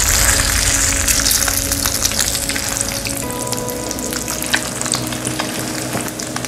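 An egg omelette, seasoned with pepper, crackles loudly in hot oil after being flipped, a dense continuous close-up sizzle with tiny spitting pops throughout and no speech.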